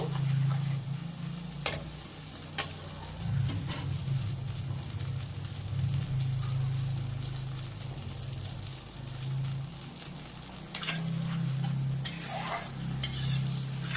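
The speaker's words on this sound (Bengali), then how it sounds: "এবার এটা আমি কষিয়ে নেব।" Mutton masala stirred and sautéed in a pan, a steady low sizzle with scraping spoon strokes and occasional sharp clinks and spatters, close and continuous with no talking.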